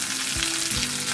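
Green chili and garlic frying in oil for a mixed vegetable stir fry, a loud dense sizzle with a couple of low thumps from stirring, brief and close.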